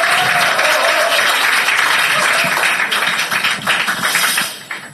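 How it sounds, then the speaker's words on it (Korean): Audience at a Democratic Party campaign office event for a Gangseo district mayoral candidate breaking into loud, dense applause that sustains for several seconds, then tapers off with a few scattered claps. "큰 박수 부탁드립니다."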